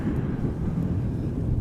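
An Airbus jet rumbles at Amsterdam Schiphol Airport, a steady low-pitched engine roar with wind-like noise, distant and continuous with no talking.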